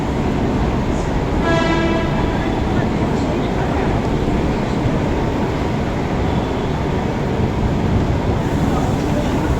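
A Mumbai local train rolls past, its horn sounding briefly near the start over a steady, loud rumble of rail noise that fills the whole stretch, with voices talking in the background.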